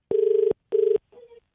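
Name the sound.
telephone ringing on an outgoing call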